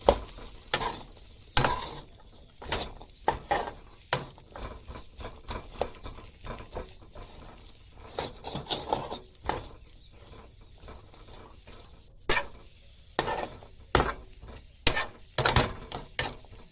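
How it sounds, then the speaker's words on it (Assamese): Spices and turmeric stirred in a pan for oil-free samosa filling: repeated scraping and stirring strokes in uneven bursts over a faint background, fairly close, no voices. "হালধি গোটেইখিনি মিহলাই ল'ম মছলাখিনি"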